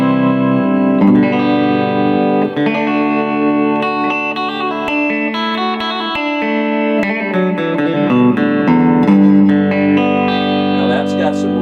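Electric guitar played through the clean channel of a Roland Blues Cube amp with the bright control off, ringing chords and single notes played continuously, clear and sustained, with no talk over it.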